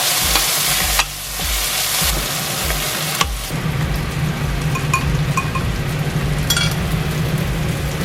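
Dried chilies, ginger, scallion and garlic stir-fry in a wok for kung pao shrimp balls, a loud, dense, continuous sizzle close by with clattering tosses and scrapes early on, then a steadier hiss.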